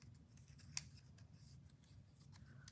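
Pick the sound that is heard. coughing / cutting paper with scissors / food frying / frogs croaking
cutting paper with scissors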